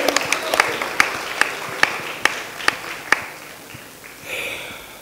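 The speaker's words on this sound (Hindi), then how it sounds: "मुकेश छाबड़ा के लिए एक बार जोरदार तालियां होनी चाहिए" A crowd applauds a guest at the launch event for Tata Sky's Acting Adda. Steady, moderately loud clapping carries a few sharper, evenly spaced claps standing out, and it thins toward the end as a murmur rises.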